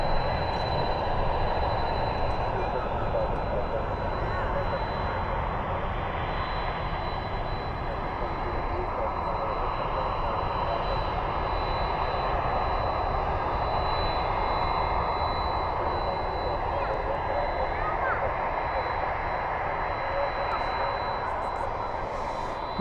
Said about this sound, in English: That's what you're hearing, that engine start up there.